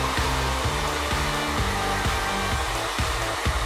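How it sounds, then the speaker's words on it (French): A hair dryer blows continuously on hair coated with hairspray, a steady close whooshing hum with slight pulsing as it moves, no talk. "C'est le moment de sécher les cheveux. Ça devrait accélérer l'effet de la laque."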